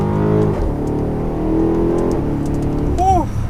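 A 2020 BMW X5 M50i engine revs and builds as it accelerates hard, a steady rising drone up close, with a brief whine near the end.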